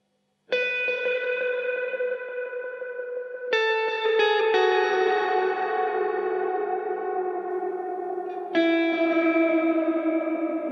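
Sustained electric guitar chords ring out with heavy reverb and spacious ambience as room mics are switched on and off, new chords struck every few seconds and left to decay.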